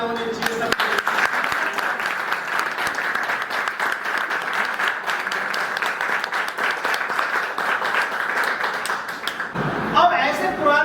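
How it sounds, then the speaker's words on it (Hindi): Loud, dense applause and clapping from an audience at a company training event. It runs steadily for about nine seconds, then stops abruptly as a voice begins speaking at the end. "एक बार जोरदार तालियां होनी चाहिए सब"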